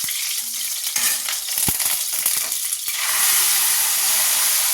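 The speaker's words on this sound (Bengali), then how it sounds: "অরহর ডালটা ফোড়ন দিয়ে দিলাম" Arhar dal tempered with asafoetida in a hot kadai in a home kitchen, a loud, steady sizzle and crackle with a stir or two, rising into a strong hiss toward the end.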